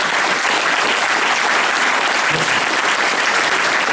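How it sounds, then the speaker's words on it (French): Audience applause at a conference in Arlon, dense and continuous clapping filling a hall, steady and loud throughout with no voices over it. "Il faut les applaudir"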